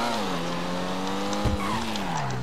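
Pfister Comet SR sports car in the GTA V video game, its engine holding a steady drone while the tires squeal, with a sharp thump partway through as the pitch shifts, loud and close.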